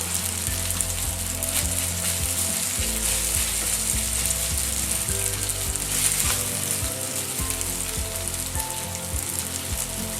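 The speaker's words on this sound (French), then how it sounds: "là ça commence vraiment à griller un peu" Clams with sausage meat browning in a hot pan give a dense, continuous sizzle and crackle, close and steady throughout, with a rhythmic scraping stir over it and no voices.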